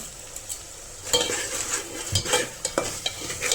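A spoon scraping and stirring tamarind curry with rock salt in a pot, with a soft sizzle underneath. The scrapes come in irregular strokes, close and fairly quiet.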